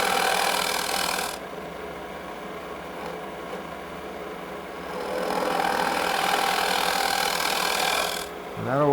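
Hollowing tool cutting wood inside a hollow form on a lathe, a steady rasping, scraping cut that runs continuously and swells louder partway through, close and fairly loud, with a brief rising tone at the end.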